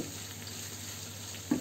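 Food frying in a pan on a gas stove, a steady close sizzle with a faint scrape of stirring and one brief clink near the end, no voices.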